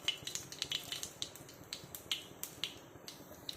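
Mustard seeds pop and crackle in hot oil, sharp irregular snaps over a soft sizzle, close up and with no voices.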